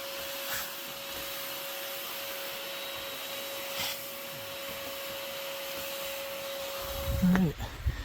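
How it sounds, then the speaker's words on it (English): A vacuum is run from a ladder to suck yellow jackets out of a nest at a secluded cabin, giving a steady faint whining drone with a constant tone, and a few soft knocks and a scuffle near the end. "just stand there on the ladder and just vacuum them up from there"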